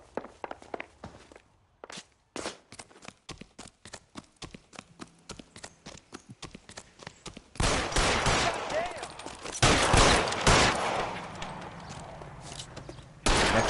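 Gunfire in LA Noire: a run of sharp separate shots and clicks early on, then heavier rapid volleys of close, loud shooting in the latter half.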